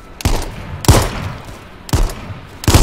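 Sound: gunfire in H1Z1 video game

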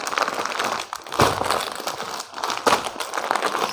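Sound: unfolding a Surat Banaras silk saree

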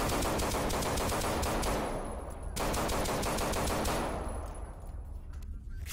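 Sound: machine gun fire in a video game (Paranoia 2: Savior)

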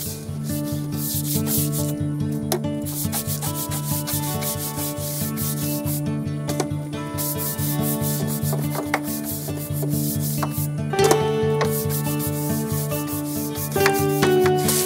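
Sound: scrubbing a wooden deck handrail with a brush

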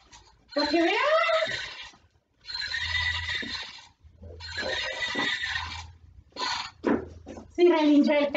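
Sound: voice imitating a horse neighing

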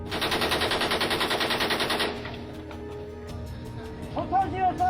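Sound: M60 machine gun fire

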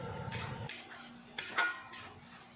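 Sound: stirring spices with sugar in a pan

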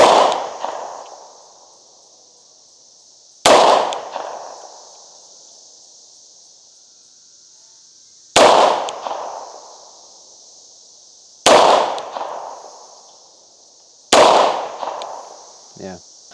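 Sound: gunshots from a Tisas B9R 1911 pistol

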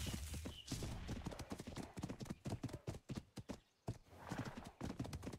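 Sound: horse running in the video game Ark Survival Evolved

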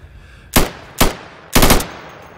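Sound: gunfire in the video game Insurgency

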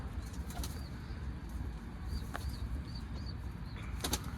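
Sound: young pigeons released to feed, wings flapping

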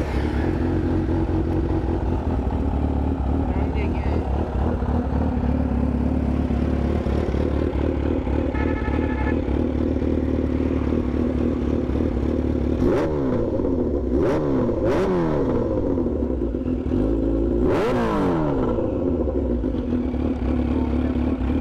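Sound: sport motorcycle engine starting and revving

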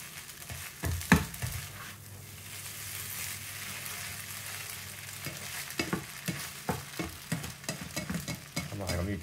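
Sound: eggs frying and being stirred in a hot pan

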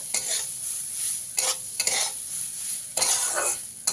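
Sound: red lentils being stirred and fried in a wok

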